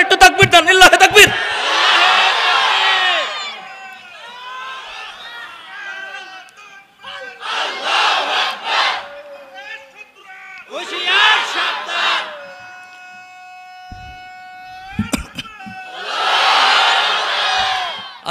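A crowd gathered for a religious talk in Kushtia shouts a loud, unified takbir chant in several bursts, with a lone voice leading between the roaring responses.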